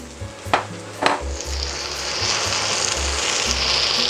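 Tuna, eggs and chopped vegetables for cabbage rolls are mixed in a bowl, a few sharp utensil knocks followed by a continuous wet, crackly stirring sound up close.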